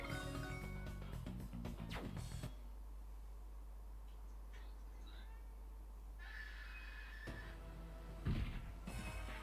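A horse whinnies loudly with a harmonic, neighing cry in the PlayStation game Legend of Dragoon, then fades into a low constant hum with faint electronic tones and a brief thump near the end.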